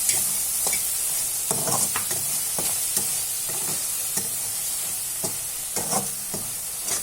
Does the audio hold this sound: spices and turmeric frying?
yes